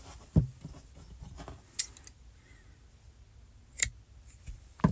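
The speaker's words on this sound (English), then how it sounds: "Snip a few inches away from the end" Scissors snip through yarn at the end of a crocheted scarf, giving a few faint, sharp clicks spaced apart in a quiet room.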